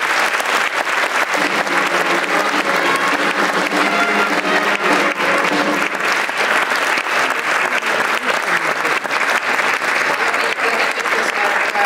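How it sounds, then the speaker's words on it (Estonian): An audience at a Paide town sports awards ceremony applauds the town's best athlete of 2016, a steady, dense clapping that fills the hall from start to finish with no talk over it. "Ja suur aplaus parimatele Paide linna sportlasele."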